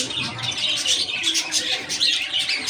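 Busy, continuous chirping and tweeting from several small birds nearby, a bright twittering chatter with no pauses.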